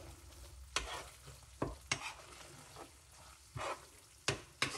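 A spoon stirs a sloppy joe cheesesteak mixture sizzling in a pan, with repeated sharp scrapes and clanks over a soft frying hiss, close and moderately loud.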